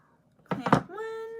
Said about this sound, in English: That's my cat. She says hello.